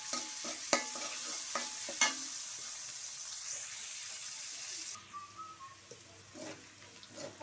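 Garlic paste and onion fry in a pan in the open, with steady sizzling and sharp scraping stirs in the first seconds, then a softer simmer and a few clinks.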